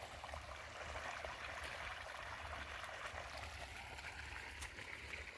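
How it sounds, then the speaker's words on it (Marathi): Quiet irrigation water runs steadily along a shallow furrow in a farm field, a soft continuous trickling rush with no voices. "जात आहे तरी पण इकडं पाणी"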